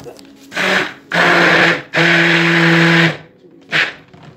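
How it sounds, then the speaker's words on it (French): Blender whirring through a two-clay soap mixture in loud, close bursts: a short pulse, a longer run, a sustained stretch of about a second, then a brief final pulse, with steady motor hum between starts. "Mixer le tout pour avoir une belle trace."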